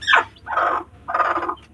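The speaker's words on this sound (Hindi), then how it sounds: "इस मुर्गी के 20 दिन पूरे हो गए हैं, इसने बच्चे निकाले हैं।" Hen with newly hatched chicks, giving three loud close clucking calls in quick succession, each with a short pause between.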